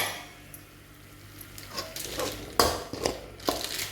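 A spoon works chilli powder and spices around a cooking pan for tomato bath, with soft scraping that builds into a few sharp metallic clinks and knocks near the end. Nobody speaks.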